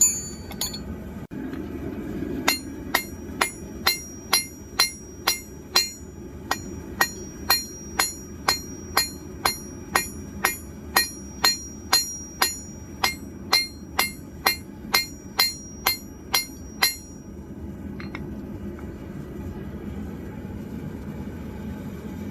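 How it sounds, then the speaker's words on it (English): A hammer strikes a forged seax blade at regular intervals, shaping the point with about twenty-five sharp metallic clinks in a steady rhythm, close and loud over a low roar, then stops, leaving only the background hum. "I've just started shaping the point of the blade."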